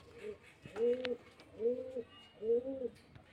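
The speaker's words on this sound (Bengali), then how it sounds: "এই যে পায়রা খুব ভালো লাইনে পায়রা আছে।" Pigeons kept for sale at a loft in Beldanga, Murshidabad, give three rounded, throaty coos at an even pace, close and moderately loud, with light background noise in between.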